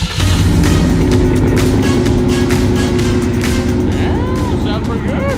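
A supercharged V8 in a Ford Raptor pickup idles with a loud, deep, lumpy rumble and steady blower whine, close up, while someone speaks briefly near the end.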